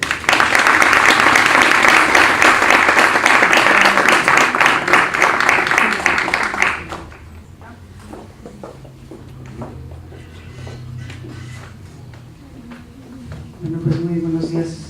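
Loud, dense applause from a university conference audience welcoming a keynote speaker, sustained for about seven seconds before dropping to quieter room noise with scattered voices.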